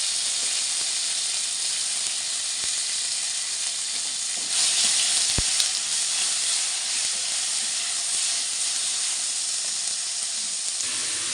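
Tomato frying with spices in a pan, a steady, loud, close sizzle and hiss that swells briefly partway through, with no talk.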